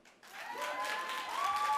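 Audience applause at a closing ceremony and awards presentation, a short burst of many hands clapping that swells quickly and holds steady, moderately loud, with a few faint cheers over it.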